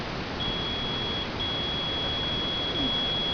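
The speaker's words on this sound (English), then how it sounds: "So I'm just going to do continuity check between the two." A multimeter's continuity check on a car stereo circuit gives a steady, unbroken high beep that holds for about three seconds over faint background hiss, with no talking.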